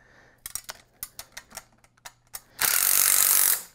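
Bolts on an auto body part cart are tightened with a power tool, giving about ten short sharp bursts in an uneven rhythm, then a louder sustained whirr of about a second, close up and with no talk.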